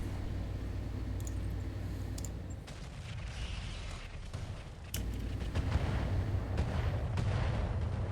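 Heavy mech weapons fire in the RogueTech mod of BattleTech, a dense, continuous barrage of booming cannon-like blasts and rumbling impacts that swells louder midway through.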